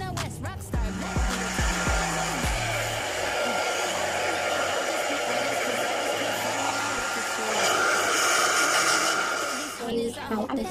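A hair dryer blows steadily while hair is dried after a shower, a constant loud whirring drone with a few brief clicks and shifts in pitch near the start.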